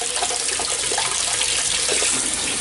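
Food held under a running kitchen tap: a loud, steady rush of water splashing close by, with a constant level and no speech.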